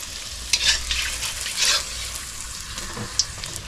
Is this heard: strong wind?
no